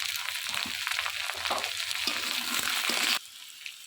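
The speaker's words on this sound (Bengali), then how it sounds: "দিয়ে আলুটাকে ভালো করে ভেজে নেব" Loud, steady sizzling of potatoes frying in a pan with turmeric and spices, with scraping stirs, cutting to a quieter sizzle near the end.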